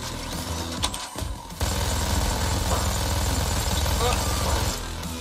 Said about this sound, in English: Well, the drill's like 2 minutes long.